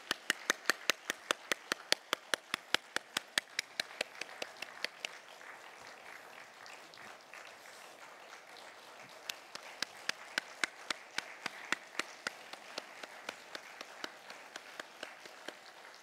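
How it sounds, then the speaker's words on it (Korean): A church congregation at Gwangyang Jeil Church claps during a youth-led Sunday praise service, with sharp, evenly spaced claps that fade into softer scattered applause midway, then pick up again in a steady beat. "큰 박수 해주십시오."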